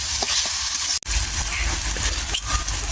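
Spices sizzling and frying in oil in a pan for a Bengali jackfruit and prawn dish, a continuous loud hiss with occasional stirring scrapes and a brief break partway through.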